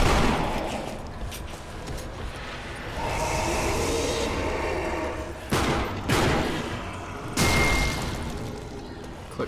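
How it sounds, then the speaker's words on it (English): Rapid, panicky bursts of gunfire from the video game Sniper Elite Nazi Zombie Army rattle out in clusters, with sharp shots standing out over a dense, noisy game soundscape. "I love successful panic firing."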